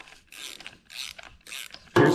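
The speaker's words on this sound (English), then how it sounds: "I'm gonna get a socket, take all those plugs out." A socket wrench ratchets in several quick bursts of clicking while removing spark plugs from a rare Twin City tractor engine with a Bosch magneto, close by, ending in a louder scrape.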